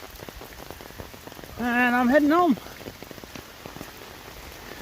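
Heavy rain pattering steadily on surfaces all around, a dense wash of drops that continues throughout while a voice speaks briefly over it partway through.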